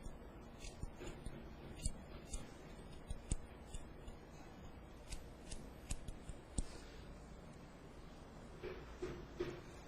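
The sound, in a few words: hair-cutting scissors snipping hair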